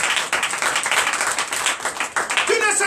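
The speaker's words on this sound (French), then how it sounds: "Donne l'acclamation au Seigneur." A church congregation at a night deliverance and prophecy service claps and cheers in acclamation, a continuous rough spread of clapping mixed with loud shouting voices.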